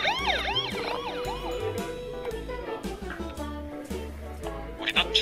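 A toy police car plays a wailing electronic siren with sweeping up-and-down tones over a bouncy synthesized tune, loud and close, with a brief voice near the end.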